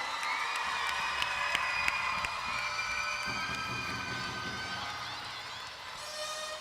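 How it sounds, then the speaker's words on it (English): A crowd at a high school basketball game cheers and whoops loudly, with a dense roar that rises and falls and a few sharp shouts and claps. The cheering stays steady for the whole span and thins slightly near the end. "Let's give them a round of applause."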